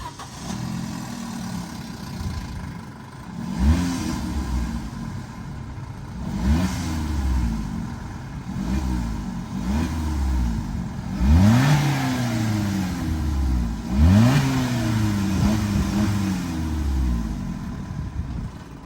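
A Vauxhall Corsa engine with its original exhaust revs repeatedly in short bursts, each rise and fall of the exhaust note distinct, with idling between pulses; close and fairly loud.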